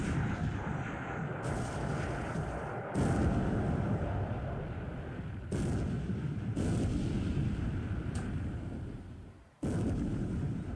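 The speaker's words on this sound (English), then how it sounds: "And Mutsu concentrated heavy battery on the enemy destroyer." Naval artillery salvos in the War in the Pacific strategy game, the battleship Mutsu's heavy battery firing at an enemy destroyer, several booming bursts spaced a couple of seconds apart over continuous battle noise.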